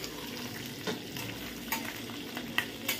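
Chicken liver fries in a pan with a steady close sizzle, broken by a few sharp stirring scrapes and clinks, and no voices.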